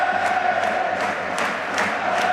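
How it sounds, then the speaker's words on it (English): Football crowd at the Valley roaring steadily through a Charlton v Hull City match, a dense sustained wall of cheering with occasional louder swells and shouts, no clear speech. "Charlton have to be strong with the Valley in full cry."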